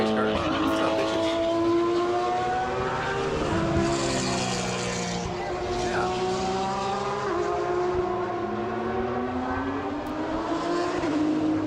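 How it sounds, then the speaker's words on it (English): Racing Porsches roar past at Porsche Rennsport Reunion 7, a continuous loud engine howl with rising and falling pitch as cars accelerate and pass, with a brief tire squeal. "Fucking race cars."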